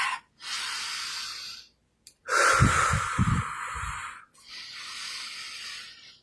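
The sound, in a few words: breath work, deep breathing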